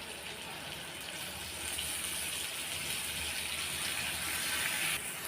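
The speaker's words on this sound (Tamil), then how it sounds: "இப்போ நம்ம புளி தண்ணியை சேர்த்துடலாம்." Strained tamarind water pours steadily into a frying pan while a chili pickle cooks, a soft continuous gushing splash that grows slightly fuller midway and stops near the end, with no talking.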